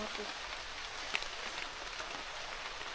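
Rain falling inside or at the mouth of a cave at Mabinay, Negros Oriental, a faint steady patter with occasional clearer drops, soft and diffuse beneath quiet background speech.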